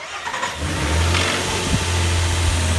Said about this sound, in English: start it up and put it in neutral, park, reverse, drive, kind of back and forth to let the pump move around